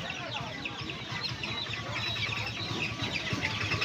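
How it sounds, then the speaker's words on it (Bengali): Australian chicken chicks packed together at a busy hen market, a continuous dense chorus of clucking and cheeping at close range with faint background bustle. "অস্ট্রেলিয়ান মুরগির বাচ্চা রয়েছে দেখুন 120 টাকা করে জোড়া।"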